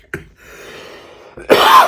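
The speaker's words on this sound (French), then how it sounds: "Excusez-moi si je tousse de temps en temps." A single sharp cough from a man who is ill, heard close and loud, followed by a short breathy rasp of breath.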